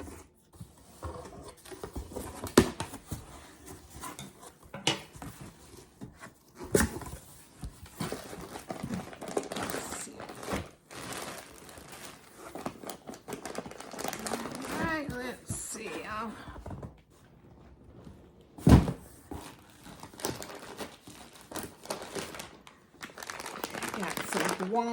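Cardboard box from a Sam's Club home delivery being opened and unpacked, with crinkling packaging, rustling and occasional thumps and bumps of items handled close by, alongside intermittent talk.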